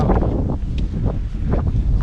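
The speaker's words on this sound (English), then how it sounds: "the wind is getting crazy already. You may not hear us soon" Strong coastal wind on Scotland's NC500 route buffets the microphone in a continuous loud low rumble with gusty surges throughout.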